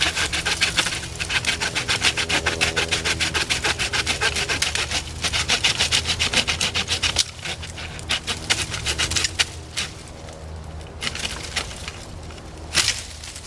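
A Harbor Freight 8-inch folding pruning saw cuts through a tree branch with fast, rhythmic rasping back-and-forth strokes, close and steady, then slower, more scattered strokes as the cut finishes.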